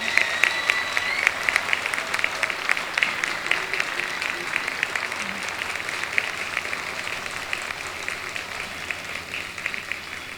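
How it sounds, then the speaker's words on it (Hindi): Steady, continuous applause fills a school alumni meet, a crowd clapping at an even, sustained level for about ten seconds with faint background voices. "जोरदार तालियों से।"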